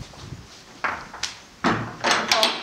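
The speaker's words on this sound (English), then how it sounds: "And bolt the door." A few sharp wooden knocks and a metallic clack as a stable door is shut and bolted, close by, with short pauses between the impacts.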